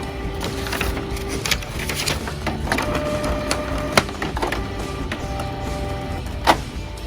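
Canon MP287 inkjet printer running a print head cleaning cycle, a steady mechanical whirring with tonal motor hum and irregular clicks, louder knocks near the end, close and alone.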